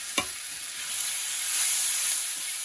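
Salt, turmeric, cumin powder and Kashmiri chilli powder frying in a pan and being stirred for a boal fish curry: a short knock, then a steady close sizzling hiss that swells slightly.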